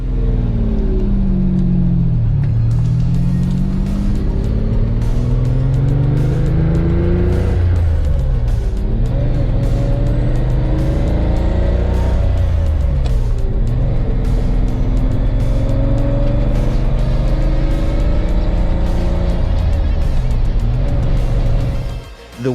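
A Lamborghini Countach engine rumbles loudly from inside the cabin, rising and falling through gear changes and revs as it drives.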